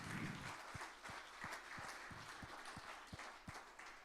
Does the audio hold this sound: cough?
no